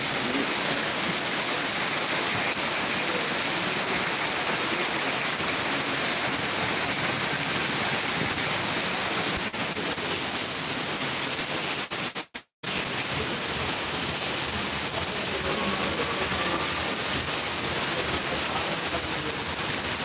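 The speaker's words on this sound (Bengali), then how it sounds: "এখন বৃষ্টির গতিটা আর কমে গেল" Heavy rain from Cyclone Remal pours in a dense, steady hiss for the whole stretch, loud and unbroken apart from a momentary dropout.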